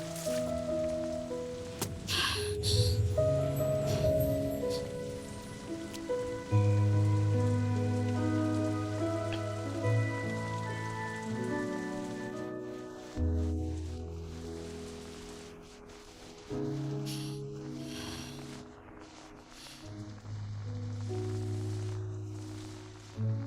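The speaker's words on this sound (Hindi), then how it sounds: "बारिश हो रही है" Steady rain falls through a scene in a Hindi-dubbed Chinese drama, a continuous wash of drops heard beneath a swelling musical score, with no voices.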